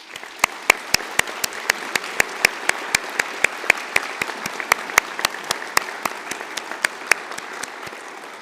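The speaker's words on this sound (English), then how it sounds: "with a round of applause." Steady applause from a large audience at a university conferring ceremony fills the hall. Sharp rhythmic claps stand out close by throughout, with no talking.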